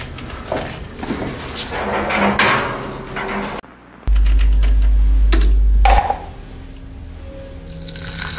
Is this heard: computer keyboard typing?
yes